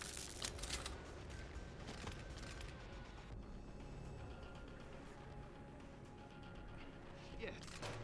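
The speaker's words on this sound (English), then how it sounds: "Fucking gunshots!" Rapid bursts of gunfire in a video game, dense and loud throughout with sharp peaks near the start and end, mixed with mechanical clatter and a voice talking over it.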